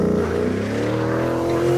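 Car drifting on an airport runway, a loud sustained engine drone with steady harmonic tones, close and continuous without talk.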